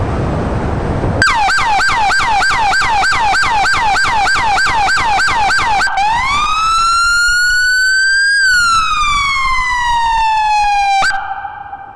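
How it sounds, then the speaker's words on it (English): A Florida Highway Patrol Dodge Charger R/T Hemi Pursuit Package police siren blares up close, first a rapid yelping cycle, then a slow rising and falling wail, loud and continuous before cutting off. "this is our first time on police cars hearing the siren"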